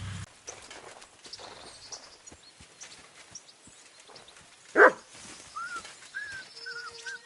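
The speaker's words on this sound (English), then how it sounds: "Barking." A dog gives one sharp, fairly loud bark partway through, set against quiet clip-clop footsteps and faint bird-like chirps near the end.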